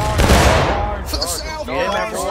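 A musket volley fired on command in War of Rights, a Civil War-era game, booms loud and broad at the opening and rolls into scattered distant shots, with shouted voices layered over the tail.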